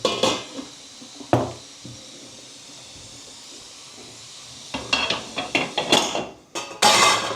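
A steel dish set into a steamer for dhokla, with sharp metallic clanks and rattles in bursts near the mic, separated by a quiet stretch with faint hiss.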